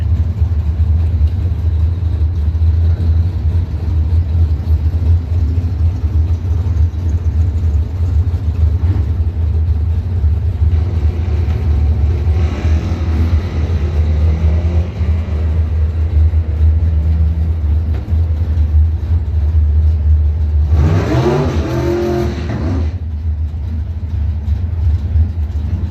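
Drag racing engines of a 1995 Chevrolet S10 and the Muffler Man Mustang: loud, steady low engine roar throughout, with a sharp rising burst of revving near the end as the cars launch.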